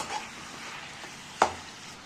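Tomatoes with a little salt sautéed and stirred in a pan for a Hotel Saravana Bhavan style chutney: a soft steady sizzle with a single sharp scrape of the spoon partway through, close and fairly quiet, with no talk.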